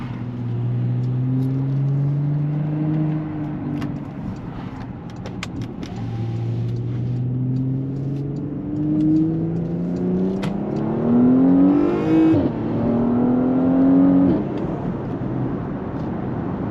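A 440-horsepower Porsche Panamera Sport Turismo 4S accelerates hard through several gear changes, engine pitch repeatedly climbing and dropping, with a brief high whistle of the turbo spooling near the end.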